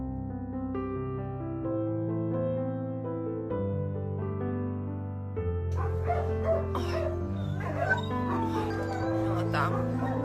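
Puppy whimpering and crying in high, wavering squeals over soft background music, with the cries starting about halfway through and repeating irregularly.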